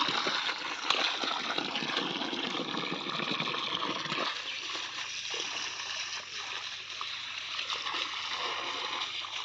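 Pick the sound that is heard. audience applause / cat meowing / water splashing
water splashing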